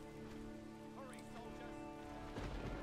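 Rain weather ability falling across a battlefield in the strategy game Battle for Middle-earth, a steady hiss of rainfall layered over game music and effects, swelling louder near the end.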